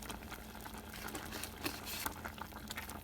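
Chicken and dumplings simmering in a pot on the stove, a quiet low bubbling with soft irregular pops and patter close by, no talking.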